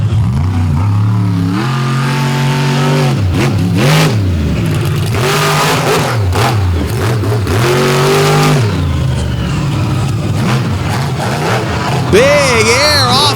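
A monster truck engine revs hard at a night off-road truck event in Benson, North Carolina, loud repeated rising and falling roars as it climbs obstacles and catches air, with an announcer talking over it.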